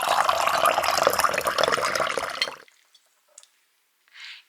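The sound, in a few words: pouring Saratoga still water into a glass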